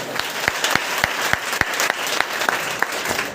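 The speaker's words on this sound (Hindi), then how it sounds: "हमारे विशिष्ट जनों के लिए जोरदार तालियां बजाइए" Scattered clapping from an audience, with sharp individual claps at a steady, uneven rhythm over a low crowd murmur.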